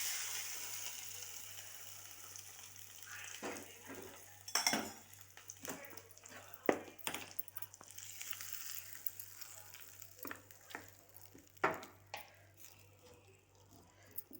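Ivy gourd and tomato chutney with curry leaves and turmeric being mixed in a large vessel, with faint background sizzle, irregular metal scrapes and clanks of a spoon against the pot, some sharp and close.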